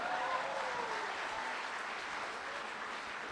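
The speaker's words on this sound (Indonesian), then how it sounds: "Tepuk tangan dulu sekali lagi" An audience at an Indonesian motivational talk applauds, a dense, steady wash of many hands clapping together that holds from start to finish, easing only slightly toward the end.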